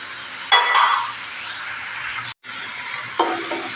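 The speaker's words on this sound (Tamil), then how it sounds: "இந்த எண்ணெயிலே வதங்கிடணுங்க" Greens stems sautéing in oil for keerai thandu kootu, brief bursts of sizzle and clinking utensil scrapes against the pan, close, separated by quieter gaps and a short dropout.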